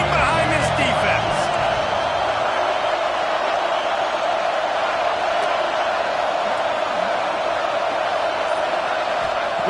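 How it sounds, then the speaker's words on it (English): Football stadium crowd roaring steadily during a big third down in the red zone, a loud, continuous wash of cheering and noise with no break, filling the whole stretch. "this crowd is getting behind this defense"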